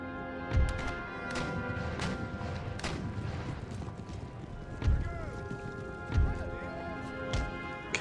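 Cavalry in the Empire: Total War strategy game, with hooves thudding and scattered heavy impacts of battle sounds, a few louder booms standing out, over a busy din of combat with someone talking.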